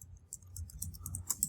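Quick, light key clicks from a computer keyboard, typed in a brief irregular burst at a browser address bar, fairly close and quiet over a soft low room hum.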